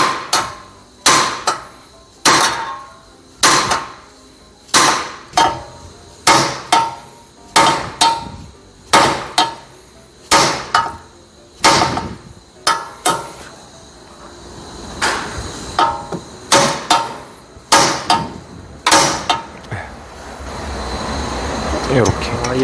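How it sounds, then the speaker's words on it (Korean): A German anti-vibration hammer repeatedly striking an aluminum part, loud sharp metallic blows in a steady rhythm of about one per second, then quicker, softer taps toward the end, with voices talking between strikes. "알루미늄은 사실 타격을 하면 안 되는데 이 경우는 특수한 경우라 어쩔 수 없는 상황이라 부득이하게 이제 망치질을 하는 거예요"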